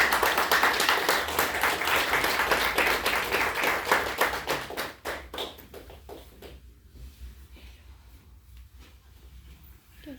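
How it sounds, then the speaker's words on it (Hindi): Loud, dense audience applause at a business seminar on servicing, many hands clapping together for about five seconds before tapering off into scattered claps and room noise. "आगे एक बार जोरदार ताली।"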